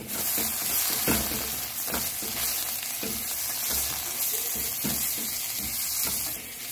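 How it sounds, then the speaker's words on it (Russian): Flour and tomato paste fry in a pan, a dense continuous sizzle with repeated soft scraping strokes as the mixture is stirred, close and steady throughout. "И хорошо прожариваем вместе с томатной пастой."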